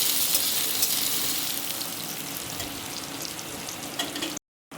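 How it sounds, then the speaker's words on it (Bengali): Potatoes frying in a pan for a banana-flower mocha ghonto while being stirred, a continuous bright sizzle with scraping stir strokes, close and steady, ending in a brief silence. "এবারে আলুটা ভালো করে নাড়াচাড়া করে নেব।"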